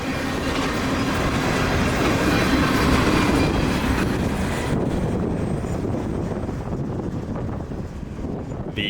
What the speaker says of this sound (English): Though because everything on the locomotive is in working order, the locomotive can lead the train